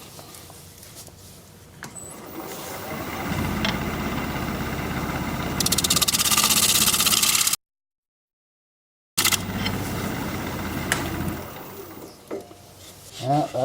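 A lathe tool scraping the inside of a natural live-edge alder wood bowl as it spins, a steady broadband rasp with a whirring motor hum that swells louder, breaks off briefly, then resumes close by.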